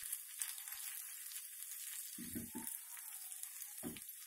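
Tempering of spices with asafoetida frying in hot oil in a small pan, a faint steady sizzle with a few soft stirring clinks, close and quiet.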